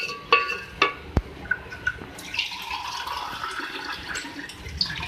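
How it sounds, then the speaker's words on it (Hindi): Water poured into a pot of beef turai gosht curry, a few sharp clinks and then a continuous splashing gush, close and alone. "अब इसमें मैं 2 गिलास पानी ऐड करूँगी।"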